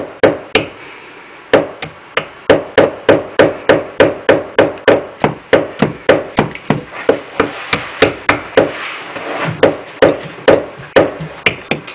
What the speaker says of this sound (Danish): Nu skal du hamre det lidt mere ind.